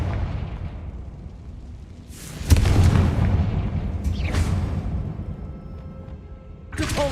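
Confringo explosive spell detonating in Hogwarts Legacy: a loud booming blast with a sustained rumbling tail, followed by another sharp burst near the end, with no talking.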